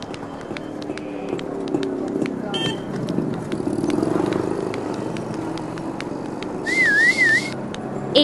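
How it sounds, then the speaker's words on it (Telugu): Several people whistle in short bursts out in the open as a vehicle runs in the background, ending with a wavering trill. Voices talk over parts of it. "ఏంటమ్మా విజిల్ మంచి సౌండ్ మీద వస్తున్నాయి?"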